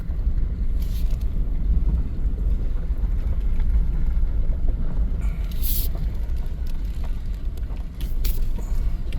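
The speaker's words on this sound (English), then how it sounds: "it's windy if you can hear me." Wind blows outdoors in a dry, open area near a parked truck, a loud continuous rumbling roar with a few brief gusty bursts and no talking.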